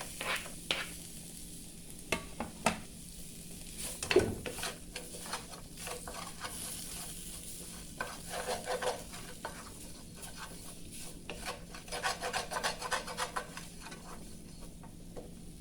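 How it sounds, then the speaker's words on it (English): Onions for Salisbury steak sizzle softly in a pan while a utensil stirs them, with scattered clicks and scrapes and a louder knock early on, the frying steady and fairly faint throughout, nobody speaking. "To this, I'm going to add my onions."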